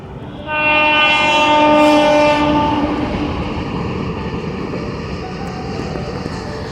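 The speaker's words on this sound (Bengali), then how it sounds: "আমাদের ঠিক নিচ দিয়ে ট্রেনটা যাচ্ছে।" A train passes directly below: a loud horn blares for a couple of seconds, then the rumble and clatter of rail cars rolls on steadily.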